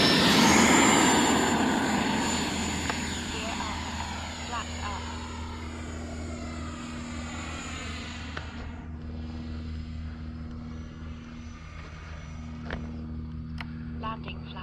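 Motor of a Freewing Yak-130 RC model jet in flight makes a loud, steady whining drone that starts close and strong, then recedes and sweeps downward in pitch as the plane passes.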